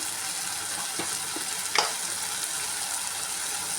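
Spices for aloo dum gravy, including Kashmiri chili powder, coriander powder and homemade masala, sizzle in hot oil with a continuous hiss. A few faint stirring scrapes and one brief louder sputter break it, with no talking.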